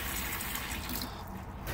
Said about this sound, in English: So simply just open up the taps between hot and cold and let the van run.